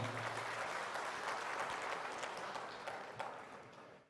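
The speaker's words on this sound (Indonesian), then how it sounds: "Tepuk tangan untuk kita semuanya." Crowd applause at an Indonesian ministerial event about land mafia, sustained clapping from many people that holds steady, then fades out at the end.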